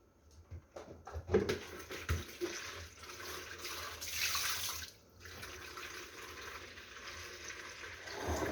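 Water runs from a tap or is poured into a jar of layered cucumbers for vinegar pickle brine, a soft, steady trickling with a few brief knocks, heard close and quiet with no talking.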